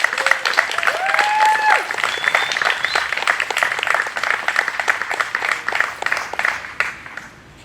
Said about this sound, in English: Let's give Kyle a round of applause,